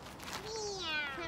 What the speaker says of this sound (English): Is that a cat or what? It's a cat.